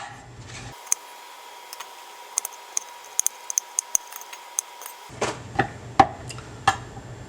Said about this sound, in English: I'm gonna start with about a third of a sweet onion. I'm gonna do large dice on this guy.